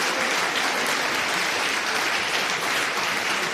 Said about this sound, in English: A big applause and good night and auf Wiedersehen from Vienna.